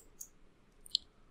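A single crisp keypress on a computer keyboard near the end, following a softer tap earlier, faint and isolated against near silence.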